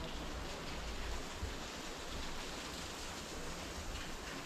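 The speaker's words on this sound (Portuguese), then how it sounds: "Tem uma cachoeira pra cá também." Steady broadband rushing of a small waterfall with little water flowing, heard near and constant with no break, on a forest cycling route to a waterfall in Benedito Novo.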